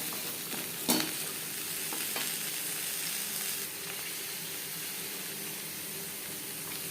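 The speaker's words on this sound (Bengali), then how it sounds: "জিরে ও তেজপাতার সাথে পেঁপে বেশ ভালো করে মিক্স করে দেবো।" Papaya pieces stir-fried with cumin and bay leaves in a pan give a steady, close sizzle with soft scraping stirs, a sharp clatter near the start, and no talking.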